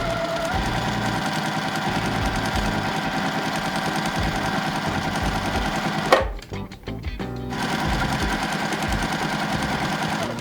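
A sewing machine runs steadily, stitching quarter-inch seams on quilt squares for half-square triangles. The even mechanical whir briefly stops and restarts partway through.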